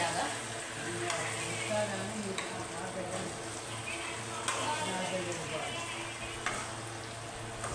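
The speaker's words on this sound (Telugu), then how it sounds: "సో ఒకసారి కలుపుకుందాం ఆయిల్ అంతా జరిగి లోపలికి పట్టేలాగా" Fish curry pieces sizzling in hot oil while being stirred in a pan: a steady, dense frying hiss with occasional soft scrapes of a ladle, moderately close and continuous.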